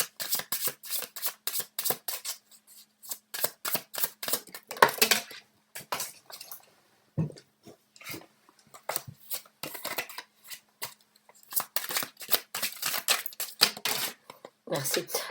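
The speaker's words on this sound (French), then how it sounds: "on va essayer de sortir 2 autres cartes" Tarot cards being shuffled and drawn, with rapid rhythmic riffling flicks and card slaps in repeated bursts, close up, interrupted by a few brief pauses.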